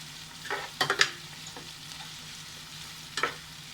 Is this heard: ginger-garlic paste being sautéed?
yes